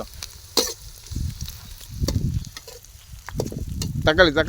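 Onions and tomato sizzle and fry in a pan for a chicken feet gravy, with intermittent stirring scrapes and clatters over a low crackling hiss, close up and moderately loud.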